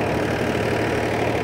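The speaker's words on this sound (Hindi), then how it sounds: "ये 35 HP का ट्रैक्टर 8 फीट का रोटावेटर चला रहा है" A 14-year-old worn-out 35 hp tractor drives an 8 ft rotavator through soil, its engine a continuous close, loud rumbling drone without pauses.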